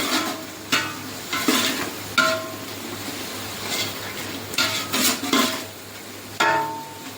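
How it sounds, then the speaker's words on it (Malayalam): Ginger garlic paste fries in a pan for a vegetable kurma, stirred in repeated scraping strokes at an irregular rhythm over a soft, steady sizzle, close by and with no talking. "പച്ചമണം മാറുന്നവരെ ഇളക്കി കൊടുക്കാം"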